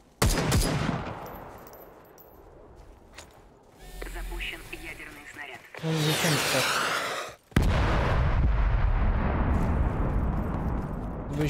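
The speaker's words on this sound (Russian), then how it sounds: "Ядерными бомбами меня не били." Nuclear bomb blasts in the battle royale game Super People come as heavy booming explosions and rumbling bursts with loud, sustained roaring tails, mixed with game sounds and talking.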